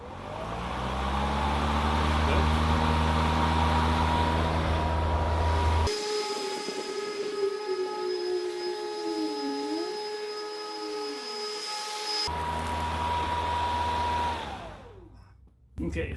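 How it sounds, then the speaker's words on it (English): A Toro 60V Flex-Force Super Recycler battery lawn mower with a cast aluminum deck runs while being pushed, a loud steady whirring hum that shifts in pitch midway, then winds down near the end with a brief knock. "that pass was just me pushing the mower"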